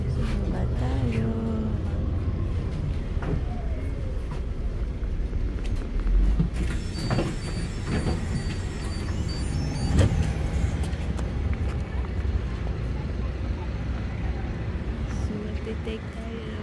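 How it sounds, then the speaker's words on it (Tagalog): A city bus in Paris rumbles close by with a steady engine drone, broken by short hissing bursts that may be its air brakes, while people talk over it. "Take tayo ng bus."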